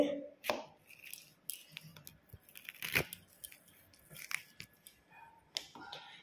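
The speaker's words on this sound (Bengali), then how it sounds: "আর গন্ধরাজ লেবুটা কাটতে হবে" A knife cuts a gandharaj lemon in a home kitchen, a series of sharp, close crunching slices and taps at an uneven rhythm.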